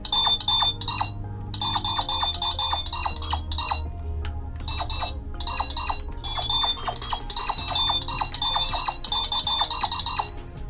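A Power Rangers Captain Force Mobirates toy plays a loud, high-pitched electronic jingle of rapid bleeping tones in bursts, close by with a low hum beneath.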